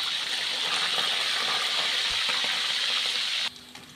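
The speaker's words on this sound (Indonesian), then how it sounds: "Lalu lanjutkan menggoreng sisa ikannya tadi ya." Tilapia fish frying in oil produces a loud, dense, steady sizzle with a bubbling crackle throughout, nearby and without talk, dropping away sharply near the end.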